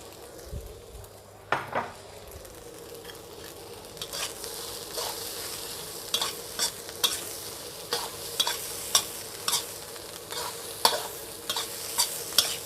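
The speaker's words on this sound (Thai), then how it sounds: "นี่ปลาสลิด แล่แล้วหั่นเป็นชิ้นเล็กๆ แล้วไปทอดครับ" Small pieces of sliced gourami fish fry in a pan with a steady sizzle, punctuated by a dozen or so sharp clinks and scrapes of a utensil stirring against the metal.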